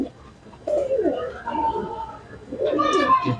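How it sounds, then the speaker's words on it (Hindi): A Kalsara pigeon coos in low, rolling bursts close by, with someone talking over and between the calls. "ये मेरा कलसरा कबूतर"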